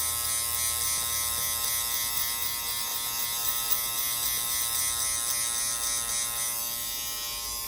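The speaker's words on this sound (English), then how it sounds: "the clipper is flicking out" Electric hair clipper running close in a salon haircut, a steady buzzing hum with faint mechanical rattle, constant throughout with no talk.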